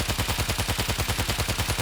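Rapid automatic gunfire in the zombie shooter World War Z: Aftermath, a fast, even burst of repeated shots running without pause for about two seconds, loud and close, no speech.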